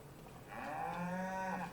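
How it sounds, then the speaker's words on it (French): Cows in a farming video game give a single drawn-out moo that swells from faint to full and holds, heard alone and moderately close. "Là, j'ai mes petites vaches."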